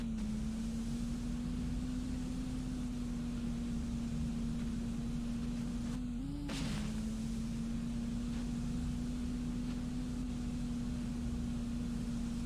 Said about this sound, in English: You listen to the engine struggle to get me up the hill.